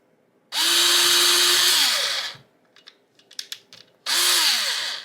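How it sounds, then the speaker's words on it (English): A power drill whirs loudly twice while drilling holes in resin, each burst spinning up and winding down, with faint clicks and handling taps between them. "get my holes drilled out"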